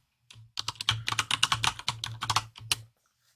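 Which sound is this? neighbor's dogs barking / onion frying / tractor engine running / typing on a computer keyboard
typing on a computer keyboard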